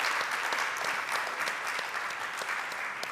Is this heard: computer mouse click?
no